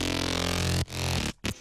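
Heavy bass synth tone run through an OTT-style saturator and light compression for a Skrillex and Noisia "Supersonic" remake, a loud sustained harmonic-rich note that cuts off, then returns in two short bursts.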